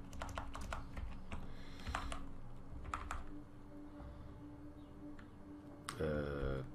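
Rapid typing on a computer keyboard: bursts of sharp clicking keystrokes with pauses between them, fairly close, over a steady low background hum.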